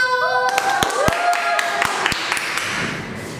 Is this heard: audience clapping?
yes